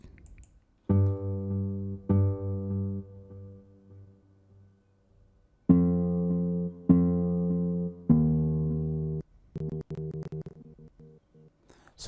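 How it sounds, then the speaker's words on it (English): Soloed nylon-string guitar patch from the Nexus plugin in a gospel beat remake, playing separate plucked notes and short chords with gaps of silence between them, clean and close with no voice. "this is nylon. Okay, this is a guitar"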